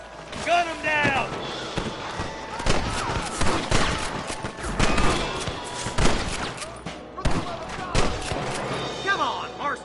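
Gunfire in Red Dead Redemption, an old-west shootout with repeated sharp revolver and rifle shots scattered throughout, mixed with shouted character dialogue and thuds.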